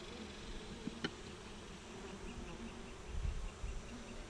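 Honey bees buzz faintly around an open Langstroth hive in Central Texas, a soft, continuous hum with a few individual bees passing close by.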